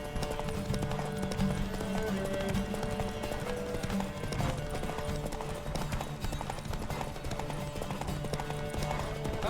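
Horse hooves in a race in The Witcher 3, a steady rapid clip-clop running throughout over a busy music and effects bed, with no talk.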